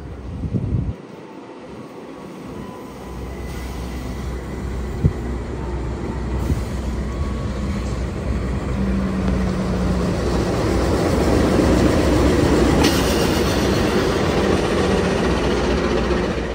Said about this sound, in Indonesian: Dan ada juga kereta yang akan masuk, itu kereta apa ya? Kereta api Taksaka dari stasiun Gambir tujuan stasiun Yogyakarta.